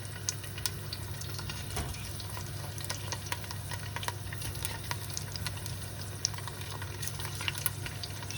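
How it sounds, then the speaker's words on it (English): Garlic and prawns frying in hot oil for Greek prawns in wine sauce, heard as a quiet, close bed of sizzle broken by scattered sharp crackles and pops over a low steady hum. "once the oil heats up, we throw in the garlic and the prawns"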